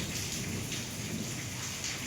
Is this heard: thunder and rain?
yes